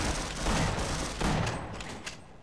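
A rapid burst of gunfire in the video game Half-Life: Source crackles twice in quick succession, loud and dense, then tails off.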